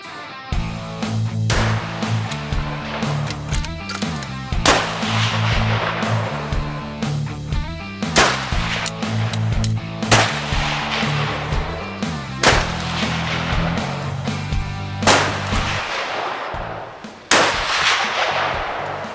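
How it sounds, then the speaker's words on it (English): Rifle fire during long range precision shooting outdoors: a series of sharp, loud gunshots spaced a few seconds apart, each with a ringing decay, over a steady low rumble with no talking. "you're going to shoot another group and then see how they go"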